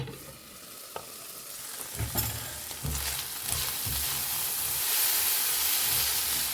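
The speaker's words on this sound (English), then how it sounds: "Cover and cook till the corn kernels are fully done." Sweet corn kernels cooking in a covered pan for a spinach corn pasta, a soft steady sizzle and hiss with a few light knocks and stirring clatters, building slightly toward the end.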